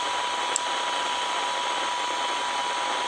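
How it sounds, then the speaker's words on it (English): A hairdryer blowing steadily to warm a Hamtronics radio receiver, a constant close airy whoosh with an even hum and one tiny click near the start. "Okay, using a hairdryer, I've warmed the receiver up a fair bit."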